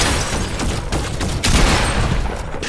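A sideways rifle fires rapidly in Fortnite, a dense, loud, continuous burst of gunfire that lasts throughout with no pauses.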